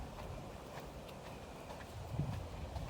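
Horses in a pasture behind a gate, heard as soft, irregular hoof clops and shuffling steps over steady outdoor background noise, fairly faint and distant, with no talking.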